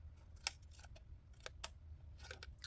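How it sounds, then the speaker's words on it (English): Scissors cutting along the edge of a piece of gift box material, heard as a quiet series of small, irregular snips and clicks up close, with no talk. "we're just going to grab our scissors and cut along this"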